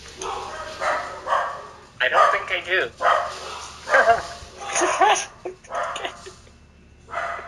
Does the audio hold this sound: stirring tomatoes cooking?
no